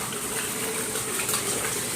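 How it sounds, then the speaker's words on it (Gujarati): Water from an overfilled tank overflowing in a steady, continuous gush, fairly close and loud, with no talking over it. "જો અહીં ટાંકી ભરાઈ ગઈ."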